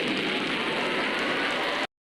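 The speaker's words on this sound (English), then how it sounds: "That's the sound of the Raid can." A Raid insecticide spray can hisses in one steady, continuous burst lasting about two seconds, close and moderately loud, then cuts off abruptly.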